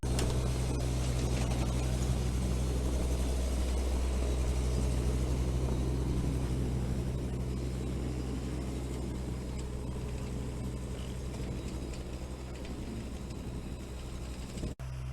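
A D6 Caterpillar dozer drags a trailer behind a house, giving a steady, loud, low engine rumble that continues throughout with no talk and ends with a brief clunk.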